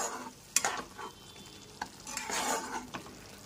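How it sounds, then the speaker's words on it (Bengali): Tomato paste fried with spices is stirred in a pan for a Bengali potol chingri dish, giving soft sizzling under several quick scraping strokes of a utensil. "টমেটো বাটাটাকে মশলার সাথে খুব ভালো করে কষিয়ে নিতে হবে।"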